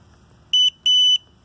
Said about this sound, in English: have a response through its buzzer